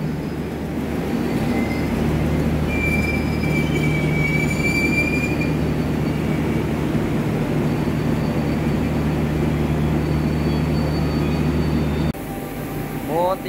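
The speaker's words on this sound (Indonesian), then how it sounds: "Setelah kereta api Mutiara Timur masuk, saya akan menunggu KA Mutiara Selatan yang akan membawa saya ke tempat tujuan" The Mutiara Timur passenger train pulls into a station, its wheels squealing in high, drawn-out screeches over a steady low rumble of rolling railcars, close and continuous until an abrupt cut near the end.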